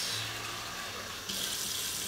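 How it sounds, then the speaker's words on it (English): Tap water rushes steadily into a new cooking pot, a continuous close hiss of filling that grows brighter and fuller partway through. "fill it up with water"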